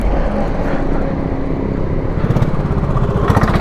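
A motorcycle engine runs steadily up close on a forest road ride, a continuous low rumble with a rising, busier burst toward the end as it revs.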